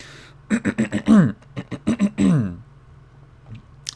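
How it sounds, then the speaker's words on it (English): A man clears his throat repeatedly after eating chili, a run of gruff, rasping, voiced bursts close to the microphone, followed by near silence. "Apologies if my voice, if I'm like clearing my throat."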